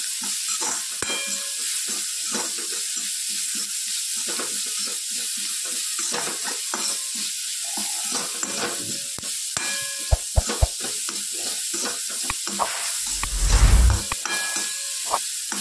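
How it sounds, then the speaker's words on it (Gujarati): Spice masala roasting in a little oil, a steady hiss and crackle with rapid stirring scrapes, a few sharp clicks and a brief louder burst near the end. "ફરી તેલમાં આપણે ખાલી મસાલો શેકવાનો છે"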